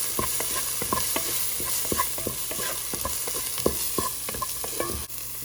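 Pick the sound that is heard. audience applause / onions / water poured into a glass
onions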